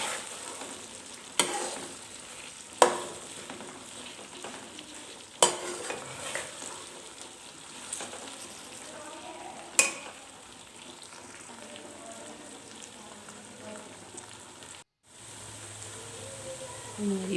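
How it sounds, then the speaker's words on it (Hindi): Okra pieces fry in hot oil with a steady broadband sizzle throughout, punctuated by several sharp clacks of a utensil stirring and tapping the pan, ending after a brief cut with a quieter tail. "मैंने ऑयल के अंदर भिंडियाँ डाल ली हैं। अब हम इसको अच्छी तरह से फ्राई कर लेंगे।"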